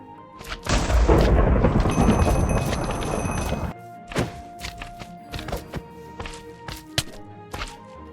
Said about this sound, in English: allowing players to trigger a lightning bolt that destroys the emerald and activates the other command blocks